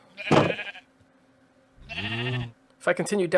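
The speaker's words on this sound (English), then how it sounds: "you'll see I have sheep, cows, and horses." Sheep bleating in a video game, three separate bleats spaced apart, clear and close, with near-silence between them.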